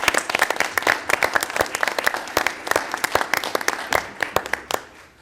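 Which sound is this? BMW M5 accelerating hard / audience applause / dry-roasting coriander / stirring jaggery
audience applause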